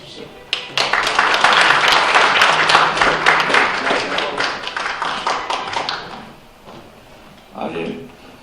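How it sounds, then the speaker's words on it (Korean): An audience at a disaster-relief policy forum in Korea gives a congressman a dense round of applause that lasts several seconds, then fades to quiet with a short stir of sound afterward. "큰 박수로 맞이해 주십시오"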